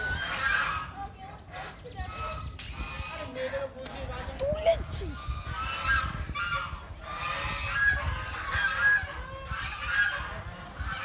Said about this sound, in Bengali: তোমরা তো রাজহাঁসের আওয়াজটা শুনতে পাচ্ছ।